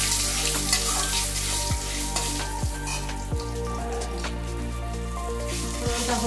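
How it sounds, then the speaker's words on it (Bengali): A tempering of dried red chili, cumin and bay leaf fries in hot oil, crackling and sizzling steadily up close, with a few sharp spatula knocks against the pan. "ফোড়নটা এইরকম একটু ভাজা ভাজা হবে, লঙ্কাটা একটু কালো মতো হয়ে আসবে।"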